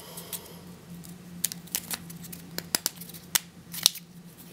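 Plastic shipping cube pieces snapping together, a series of crisp close clicks and taps at irregular intervals over a faint steady background hum.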